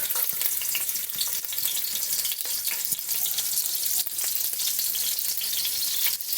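Hot pepper and garlic fry in oil in a pot on the stove for a Jamaican-style macaroni and frankfurter dish, giving a steady, close, crackling sizzle that runs unbroken throughout with no talking.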